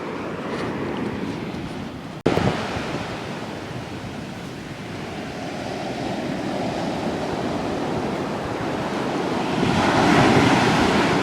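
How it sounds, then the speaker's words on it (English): Big storm waves crash continuously onto the shore at Youghal, County Cork, Ireland, under heavy wind buffeting the microphone, a loud, dense roar with one sharp jolt near the start and rising surges later, no voices. "Obviously not waves this big"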